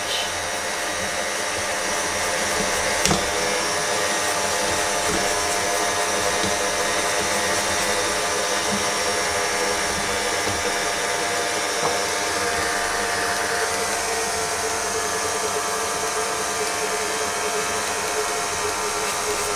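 Electric mixer kneading bread dough into an elastic paste, a loud steady motor whine with a dense buzzing drone running without pause, no voices.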